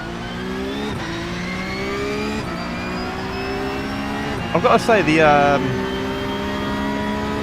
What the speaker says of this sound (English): the sound is really good on this car. It's got that nice whistle.